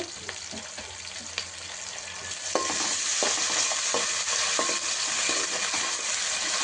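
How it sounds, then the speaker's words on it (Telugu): Ginger garlic paste frying in a pan with capsicum for veg manchurian, a steady sizzle that grows louder halfway through, with intermittent scraping stirs. "దీన్ని కూడా మనం ఫ్రై అవ్వాలి హాఫ్ స్పూను అల్లం వెల్లుల్లి పేస్ట్"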